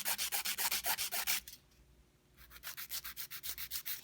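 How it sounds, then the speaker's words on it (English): Square filing of a sculpted gel nail, rapid rhythmic back-and-forth rasping strokes up close, a short pause, then another run of even strokes, with no voices. "let's file this and shape it properly"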